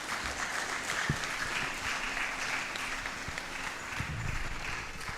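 Sustained audience applause at the 2025 Science / Technology Fair & Exhibition, a dense continuous patter of many hands clapping, steady in level with a few sharper claps standing out and no speech over it.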